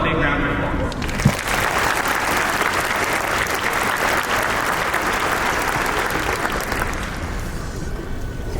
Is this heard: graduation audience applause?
yes